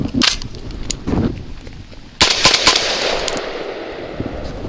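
Genesis Arms Gen 12 shotgun fired with light 1-ounce Rio shells, loud sharp blasts with a couple of distinct reports and lingering outdoor echo.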